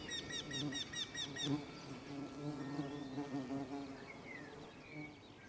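Wild bees buzzing steadily close by around old orchard tree flowers, a droning hum with bird chirps and calls breaking through outdoors.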